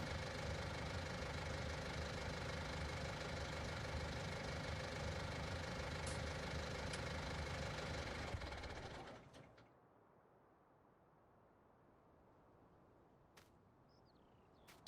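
CLAAS tractor engine idling in Farming Simulator 19, a steady, even diesel tick-over with a knocking rhythm that holds for about nine seconds, then cuts off and leaves near silence.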